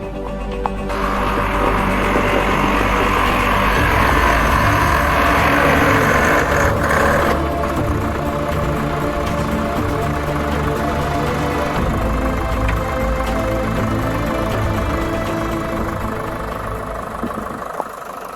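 A steady, loud tractor engine rumbles continuously at close range, idling and running with a low, throbbing drone and no voices.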